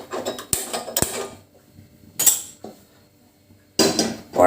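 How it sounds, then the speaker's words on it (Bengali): A metal kadai (wok) is set onto a gas stove with several sharp metallic clanks and rattles spaced apart by quiet gaps, heard up close with no talking. "কড়াটা বসাবো"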